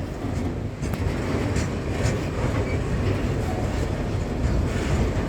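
Australian steel freight train rolling past, a continuous heavy rumble with rhythmic wheel clatter and metallic clanks, loud and close throughout.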